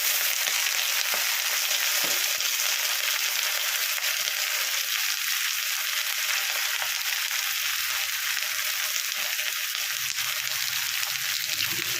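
Chopped vegetable stalks fry in mustard oil for a Bengali puin shak chorchori, giving a loud, steady, close sizzle that holds evenly with faint occasional clicks.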